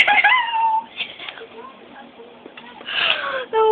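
A house cat meows several times in a party setting, a drawn-out cry at the start and a louder cluster near the end, with quieter sniffing and breathy noises between the calls.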